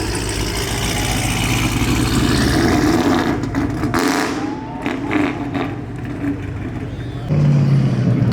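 A 1,000 horsepower Camaro rolls out with a loud, steady engine rumble among other traffic noise. The engine note swells into a heavier, deeper roar near the end.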